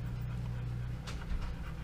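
Panting from a Pomsky mother dog whelping a litter of puppies, a steady close breathy rhythm with no talk over it.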